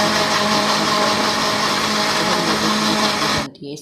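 An electric blender whirs steadily at high speed while pureeing harees sauce, then cuts off abruptly near the end.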